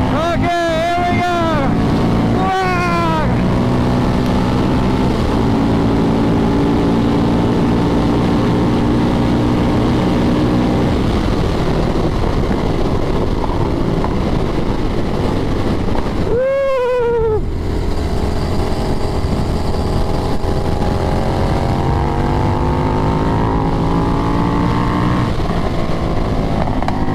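A big, heavy motorcycle ridden fast on a race track without a windscreen, its engine droning steadily with rising and falling pitch through gear changes, buffeted by wind noise, with a rider's voice heard briefly over it.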